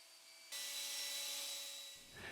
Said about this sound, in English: we'll put the drill on slow